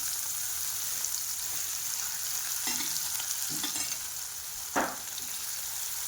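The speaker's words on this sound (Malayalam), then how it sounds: "വെളിച്ചെണ്ണ ചൂടായി തോന്നുന്നു നമുക്കിന്ന് കുറച്ച് മീനുകൾ ഓരോന്നും അതിനകത്ത് കൊടുക്കാം" Fish frying in hot coconut oil, a steady close crackling sizzle with a few soft thumps and stirs, no talking.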